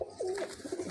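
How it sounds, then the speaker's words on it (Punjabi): A red pigeon gives a short, close burrowing coo, a couple of throaty rolling notes rising and falling within a second. "ਇਹਨਾਂ ਦਾ ਲਾਲ ਕਬੂਤਰ ਆ"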